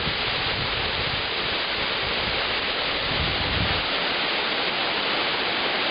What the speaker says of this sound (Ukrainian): Потічок тече і ось вдалині ще один водоспад.